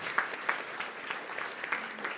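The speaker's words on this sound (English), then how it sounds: "so we should please give her a huge round of applause" Audience applause at a Stop Food Waste Day event, a steady patter of clapping from a crowd, moderately close, with small peaks of louder claps and no talking.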